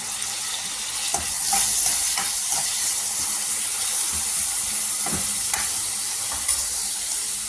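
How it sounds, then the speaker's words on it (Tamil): Tomatoes sizzle steadily in a hot pan with ginger-garlic paste, with a spatula scraping and stirring now and then, close and continuous, no voices. "இப்போ இதில் தக்காளி போடுவோம். தக்காளியெல்லாம் கனிஞ்சி வரணும்."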